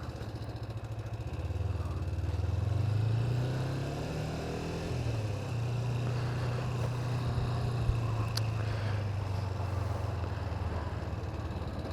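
A Kawasaki Ninja 250, a liquid-cooled street bike, idles steadily on partial choke while warming up in winter cold, a close, continuous low engine drone with a slight rise and dip in pitch.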